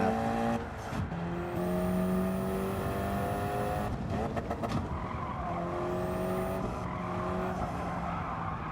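A race car engine in Gran Turismo 7 drones steadily on track, its pitch rising through gears with abrupt shift cuts and brief tire squeal, loud and continuous throughout.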